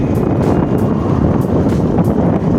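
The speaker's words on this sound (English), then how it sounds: "It's very windy, so you probably can't hear us." Strong wind buffeting the microphone in a steady, loud roar with gusty low rumble throughout on a road trip entering South Australia, no voices.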